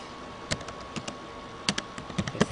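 Sparse keystrokes on a computer keyboard as a file name is typed, scattered clicks in small bursts over a faint steady hum, close and alone with no talking.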